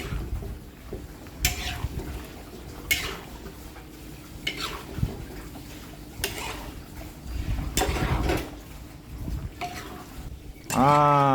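Quiet sizzling in a wok with intermittent scraping and clanking strokes of a utensil stirring vegetables and large red chilies, ending in a brief louder metallic clatter.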